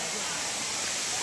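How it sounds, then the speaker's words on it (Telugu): A waterfall roars as a dense, steady rush of falling water, loud and close, filling the whole short stretch without pause. "అసలు పాయింట్లోకి వచ్చేసి ఇదే అన్నమాట వాటర్ ఫాల్స్."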